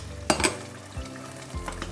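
Chopped onions sizzling and being stirred in a pan while cooking Tunisian lamb mermez, with a couple of spoon scrapes and a soft splash of water added, steady frying hiss throughout.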